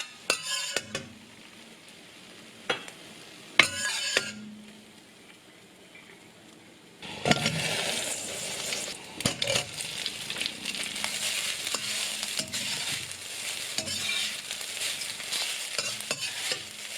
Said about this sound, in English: Now it's time to add the fried eggs and stir fry them together.